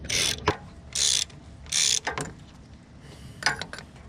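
A socket ratchet loosening an intake manifold bolt on a 1992 Ford: three quick bursts of clicking pawl, close and loud, followed by softer clicks after a pause.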